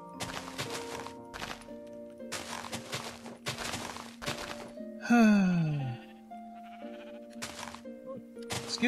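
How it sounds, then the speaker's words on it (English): Sheep bleat in the Minecraft video game, a loud wavering falling cry standing out near the middle amid game background sounds and music-like tones, with other short bursts around it. "Lots of sheep and stuff in this area."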